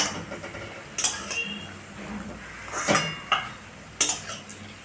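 Fried mochar chop, a crisp banana-blossom croquette, is lifted from the frying pan with sharp metal clinks and scrapes of a utensil against the pan over a faint sizzle, close up with no speech.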